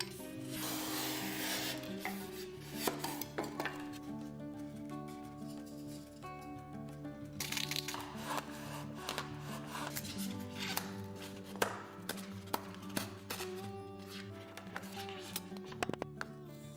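A kitchen knife saws through foam for tabletop terrain, giving repeated soft rasping, rubbing strokes with a few sharper scrapes, all mixed under steady background music.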